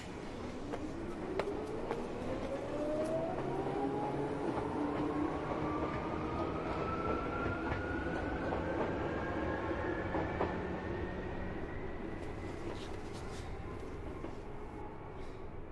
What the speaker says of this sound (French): le train en direction de Tokyo entre en gare voie A